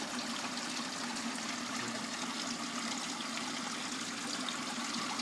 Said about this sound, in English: now it's got this little waterfall